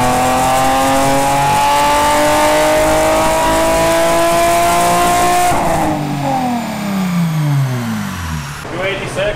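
A cammed Infiniti G35 revs hard and loud on a dyno, its engine note climbing steadily for several seconds before cutting off and winding down in a falling whine, with voices talking underneath.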